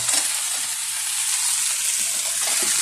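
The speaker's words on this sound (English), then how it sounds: "Okay, our grilled cheese is toasting." Bread for grilled cheese sandwiches toasts in a hot skillet, a loud, steady hissing sizzle close by with a few faint knocks underneath.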